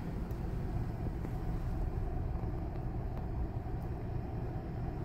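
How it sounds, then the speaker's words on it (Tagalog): Traffic crossing a bridge in snowy Edmonton at about -20°C, a steady low rumble of passing cars with faint wind noise, continuous and moderately loud from inside or near a vehicle, no talking. "Traffic dun sa bridge, oh."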